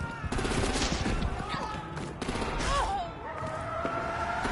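Rapid gunfire in Batman: The Enemy Within. Loud, dense bursts of shots and clatter run through the whole clip, with a few brief voice fragments under them.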